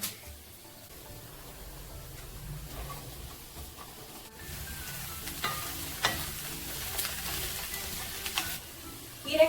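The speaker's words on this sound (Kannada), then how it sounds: "ಈರುಳ್ಳಿ ಚೆನ್ನಾಗಿ ಬಾಡಿದಾದ್ಮೇಲೆ ಹೆಚ್ಚಿ ಇಟ್ಕೊಂಡಿರುವಂತ ಹೀರೆಕಾಯಿನ ಹಾಕೊಳ್ಳೋಣ." Chopped ridge gourd and onions fry in a pan for a North Karnataka style palya, a soft steady sizzle broken by occasional scraping stirs that grow more frequent toward the end.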